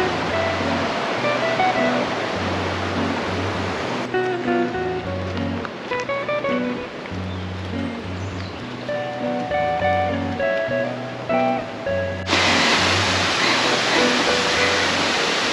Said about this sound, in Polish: Mamy pierwszy wodospad. Może niezbyt jeszcze... Chociaż... Kawał wody płynie jednak.